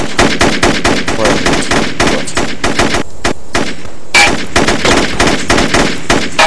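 Rapid bursts of automatic gunfire from the video game U.S. Most Wanted, loud and nearly continuous with a short break near the middle before the shooting resumes.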